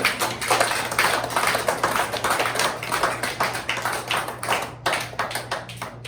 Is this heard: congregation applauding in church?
yes